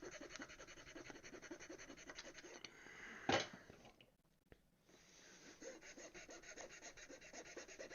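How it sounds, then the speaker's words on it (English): A wood rasp grinds hard against a wooden mallet, making a loud, close, raspy scraping in quick back-and-forth strokes, with a short pause in the middle before the filing resumes. "Let's get this freaking rasp in here and freaking rip the crap out of it."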